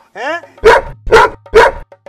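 A man imitates a dog, giving a short rising whine and then three loud, evenly spaced barks, close to the listener.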